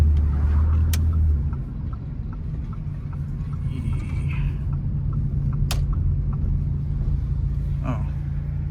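Car with a decat downpipe idling and cruising, a steady low engine and exhaust rumble throughout, louder at the start, with a few faint ticks and brief sharp cracks over the drone.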